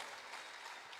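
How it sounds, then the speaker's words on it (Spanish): Church congregation clapping, a faint, distant, steady patter of applause with no speech. "Le dan un fuerte aplauso al Señor."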